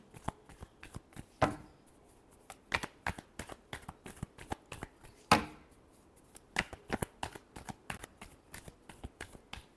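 Tarot cards being shuffled by hand in a steady run of crisp riffling snaps, with a couple of louder, sharper slaps standing out, close and alone with no voice.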